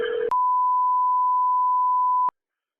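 A single steady electronic tone rings out for about two seconds on a phone line as an emergency call is transferred to the fire department, starting abruptly after a brief burst of line noise and then cutting off cleanly.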